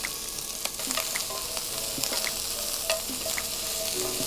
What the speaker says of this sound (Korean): 여기에 양파, 마늘, 파 하얀 부분, 네, 그 부분을 넣어서 먼저 볶아주도록 하겠습니다